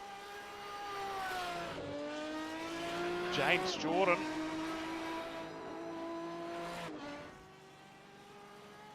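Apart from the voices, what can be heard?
race cars finishing a race in iRacing sim racing game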